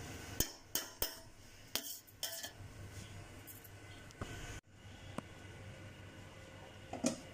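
A metal utensil mixes cooked cumin rice in a pot, giving several sharp scraping clinks against the pot early on, then softer stirring sounds and a final clink, with no talking.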